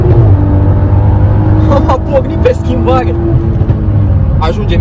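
BMW 6 Series fitted with an X-pipe exhaust, heard from inside the cabin as a steady, loud engine drone that changes pitch through acceleration and gear shifts, with people talking over it.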